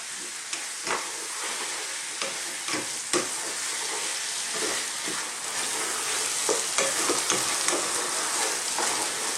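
Italian beef stew, spezzatino di manzo, frying in a pot, with a continuous close sizzle broken by periodic scraping knocks as a spoon stirs the meat.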